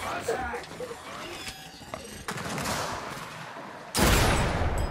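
Sentry turrets in Gears of War 4 Horde mode rattle off bursts of automatic fire amid game noise, fairly faint at first and then breaking into a sharper, louder volley near the end.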